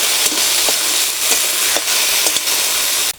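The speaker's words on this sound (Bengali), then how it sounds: "কচুর লতিটা সুন্দর করে ভেজে নিয়েছি" Taro stolons (kochur loti) frying in hot oil, a loud, dense, close sizzle that runs steadily with a few faint stirring knocks before cutting off abruptly at the end.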